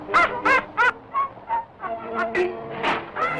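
A parrot in the Steamboat Willie cartoon squawks in a rapid series of about ten harsh, loud bursts, close and prominent with no talk over them.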